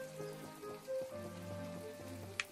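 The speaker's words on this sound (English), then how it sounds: "And it's still raining." Steady light rain falls throughout in the farming life-sim game My Time at Portia, a soft continuous patter with faint tonal game ambience beneath it and one brief sharp tick near the end.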